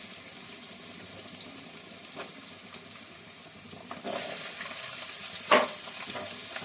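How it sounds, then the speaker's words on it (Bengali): Potatoes fry in hot oil in a pan after paneer, a soft steady sizzle that grows louder and busier partway through, with a brief clatter of stirring near the end and no talk. "পনিরটা আমার ভাজা হয়ে গেছে, এবার আলুগুলো ভেজে নেব।"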